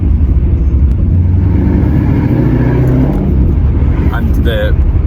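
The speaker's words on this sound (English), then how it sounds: "It's got a 5 litre Coyote engine in it" A Roush-tuned 2017 Ford Mustang GT with a naturally aspirated 5-litre Coyote V8, around 500 bhp, rumbles at low revs, a deep, close, throbbing idle burble that stays steady.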